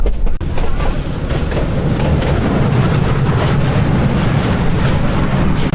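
A train arrives on the Dinajpur to Lalmonirhat line, a loud continuous rumble of wheels and carriages with faint rhythmic clatter running throughout, after a brief dip at the start.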